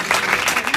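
Congregation clapping during a Hindi-Urdu church sermon, a dense, steady patter of many hands filling the short moment without pause.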